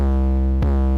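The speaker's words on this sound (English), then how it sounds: "This is the fruity fast distortion." A beat sample run through the Fruity Fast Dist distortion effect in FL Studio produces a loud, dense, buzzing sustained tone, briefly cut by a short percussive hit midway.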